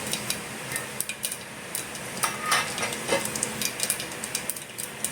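Cumin, mustard and coriander seeds hit hot oil and crackle, with sharp irregular pops and spits over a soft hiss, plus a few utensil clinks close by.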